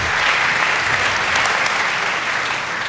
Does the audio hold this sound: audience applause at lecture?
yes